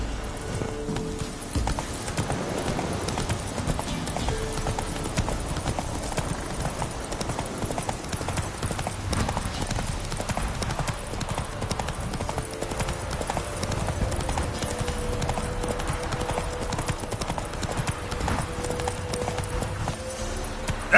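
Roach, a horse in the video game The Witcher 3, gallops with a rapid, steady clip-clop of hooves and an occasional snort, running continuously under game music.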